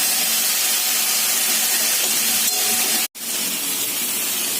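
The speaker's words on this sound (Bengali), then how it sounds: "এই দেখো ডাঁটাটা ভালো করে ভাজা ভাজা হয়ে যাচ্ছে" Drumstick stems and mixed vegetables with salt and turmeric fry in a pan, a loud, close, steady hiss of sizzling that cuts out briefly near the end and then resumes.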